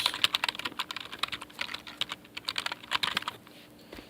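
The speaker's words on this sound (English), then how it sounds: "Type in your URL that you want to use." Rapid typing of a web address on a computer keyboard, a close run of crisp, uneven key clicks with short pauses, with no talking.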